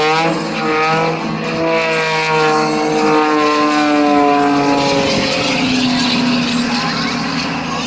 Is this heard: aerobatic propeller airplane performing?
yes